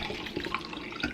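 Coconut milk and filtered water pour into a bullet blender cup, a soft, brief liquid trickle and splash heard up close and fairly quietly.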